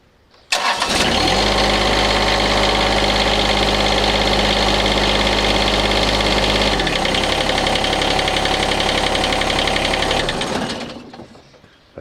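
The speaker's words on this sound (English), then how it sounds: "when I start the engine" A John Deere X750 lawn tractor engine starts up and runs loud and steady, shifting to a lighter idle partway through, then cuts off and winds down, with no talk.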